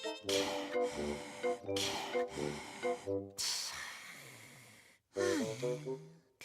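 Heavy, wheezy breaths come in a steady rhythm up close, several strained gasps in a row, then a short pause and one final drawn-out breath.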